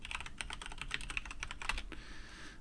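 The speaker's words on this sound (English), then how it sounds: "if I type my password in right" Rapid clicking keystrokes on a computer keyboard as a password is typed, close and steady for about two seconds before stopping, with no talking.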